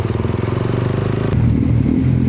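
A Suzuki Raider motorcycle engine on a flooded highway chugs loudly and close in rapid, even pulses, shifting into a rougher, denser rumble partway through.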